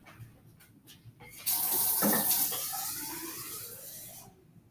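Tap water pours into a container for an Archimedes' principle lab, a steady hissing rush that starts abruptly after a quiet, faintly noisy lead-in and then gradually changes pitch as the vessel fills before cutting off.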